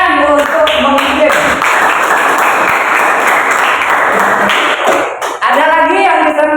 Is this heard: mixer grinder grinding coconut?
no